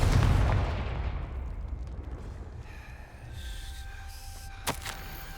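A Confringo fire spell from Hogwarts Legacy erupts in a loud booming blast that rumbles and fades, followed by quieter game ambience and a sharp crack near the end.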